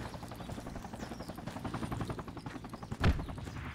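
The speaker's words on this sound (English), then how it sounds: "Got choppers coming." Military helicopter approaching in Project Reality, a steady rotor chop with a rising engine roar and a loud sharp bang near the end.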